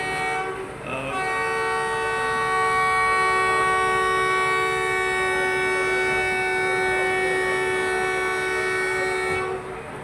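A passenger train, the Babu Train running from Lala Musa to Lahore, rolls past at its inauguration, its horn blaring loud and steady for about eight seconds over the rumble of the wagons.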